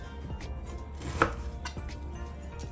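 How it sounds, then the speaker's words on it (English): A knife chops ginger on a board in a home kitchen, one sharp close knock standing out over faint soft taps and steady background hum, with no talking. "Cut on the ginger."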